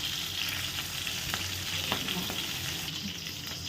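Mustard seeds, curry leaves and green chilies sizzle in hot oil over a low flame for a Telangana-style chicken gravy curry, giving a steady, close, dense hiss with scattered small crackles throughout.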